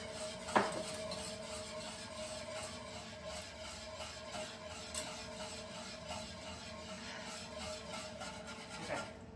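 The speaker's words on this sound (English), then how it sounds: "I'm gonna give this a little stir" A spoon stirs cake batter for a gluten-free Kentucky butter cake in a bowl, a soft continuous scraping and rubbing with a couple of sharper clinks of metal against the bowl at the start and end.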